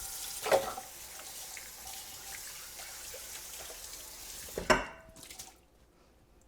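A large mixing bowl is rinsed under a running kitchen tap: a steady stream of water splashes for several seconds, then a clatter of the bowl as the flow stops, leaving near silence.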